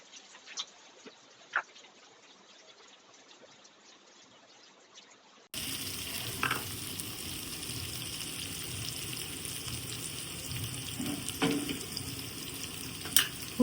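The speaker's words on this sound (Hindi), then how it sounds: "अभी बन रही है सब्जी, भिंडी की सब्जी, गर्मा गर्म भिंडी की सब्जी।" Okra (bhindi) curry frying in a pan in a home kitchen, a steady sizzle that gets louder partway through, with occasional clinks and faint bird calls in the background.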